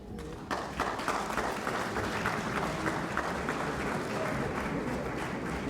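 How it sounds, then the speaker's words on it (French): A crowd at a wedding ceremony claps steadily, starting abruptly and holding a dense, even burst of applause throughout, with voices faintly mixed in. "Applaudissez-nous tous."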